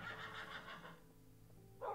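A Minecraft horse gives a whinnying neigh that rises and fades over the first second, then a quieter stretch and a short, louder snort-like burst at the end, heard alone with no talk.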